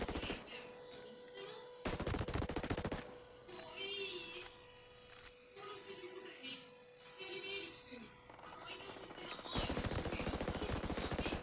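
A turret fires in Ghost Recon Breakpoint as two loud bursts of rapid automatic gunfire, one early and one near the end, separated by a stretch of game sounds and quiet voices.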